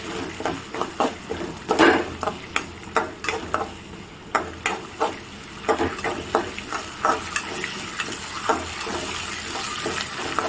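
Chana dal, peanuts and urad dal fry in oil in a pan while being stirred, with a steady close sizzle punctuated by a quick series of sharp scraping strokes.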